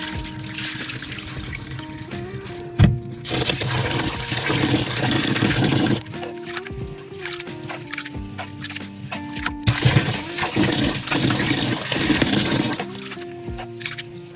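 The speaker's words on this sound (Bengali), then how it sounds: "তো এখন আমি ধুয়ে পানিটা ঝরিয়ে নিব" Soaked mung lentils, masoor lentils and rice are rinsed and drained in a strainer, with water splashing and trickling in loud bursts that pause briefly and start again, with no talking.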